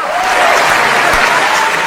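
Loud, dense audience applause filling the whole moment, steady and close, with no break in the clapping.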